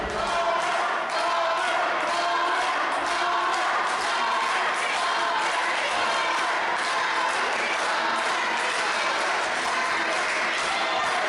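Wrestling crowd cheering and clapping loudly in an arena, a steady dense roar of many voices and applause that holds throughout.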